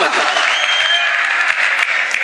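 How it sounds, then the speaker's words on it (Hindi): A whole crowd at a live Hindi song performance claps together, dense steady applause sustained loud and close throughout, with no pauses. "एक बार पूरा मजमा ताली बजाए"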